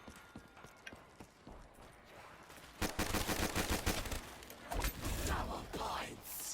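Gunfire in Call of Duty Black Ops 3 Zombies on the Kino Der Toten map, sparse single shots at first and then denser loud bursts, with clattering game effects between them.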